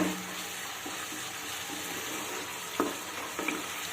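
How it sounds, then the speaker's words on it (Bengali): Garlic masala sizzling in oil in a pan for pomfret fish curry, a low steady fry with occasional spatula scrapes against the pan. "এক্ষেত্রে আমি একটু কষিয়ে নেব কারণ যেহেতু আমি রসুন ব্যবহার করেছি তাই একটু কষিয়ে নিলে রসুনের কাঁচা গন্ধটা আর থাকবে না"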